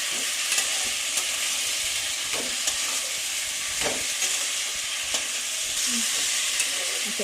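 Fried vegetables and spices sautéing in a pan for Bengali shukto give a steady, close sizzle with occasional scrapes and clinks of stirring throughout.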